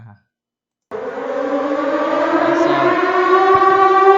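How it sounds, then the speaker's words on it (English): A loud, steady wailing nuclear warhead siren in an SCP video game starts abruptly after a brief pause and holds a rising, droning tone to the end. "over here we got the nuclear warhead siren"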